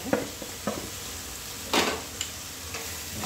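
Masala and onions fry for sprouted chana masala, a soft continuous sizzle with a handful of scraping stirs from a spoon in the pan, close and without speech.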